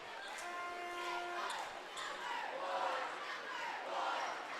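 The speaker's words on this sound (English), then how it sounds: "Antwerp Archers cheerleaders and Hicksville cheerleaders cheering on their teams, as well as the student sections" Cheerleaders from Antwerp and Hicksville and the student sections cheer at a varsity boys basketball game, a loud, steady crowd roar with rising chants and shouts filling the gym throughout.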